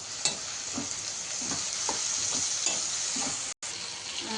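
Tomatoes frying with onions and turmeric in a pan for a tomato curd chutney, a constant close sizzle with regular soft scraping strokes of a stirring spoon, briefly cutting out near the end.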